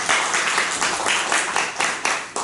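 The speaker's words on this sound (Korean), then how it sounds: "다시 한번 힘찬 박수로 기도해" A church congregation claps together during a Sunday worship service, steady rhythmic clapping that fills the whole stretch at moderate volume, with no talking.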